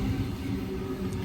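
An XG set passenger train passing through Penshurst station on the railway, a steady low rumble of wheels and motors rolling by at moderate loudness throughout, with no voices.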